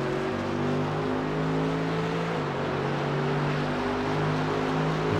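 A Ferrari race car engine in the iRacing sim drones steadily at high revs, a loud continuous tone with sustained harmonics that shifts pitch slightly partway through, with no talking.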